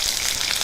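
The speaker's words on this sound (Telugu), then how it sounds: "ఉల్లిపాయ ముక్కలు కూడా వేసుకుందాం." Onion pieces hiss and sizzle in hot oil as a tempering for a traditional bitter gourd and tomato curry, a bright, continuous and close frying sound with no voices over it.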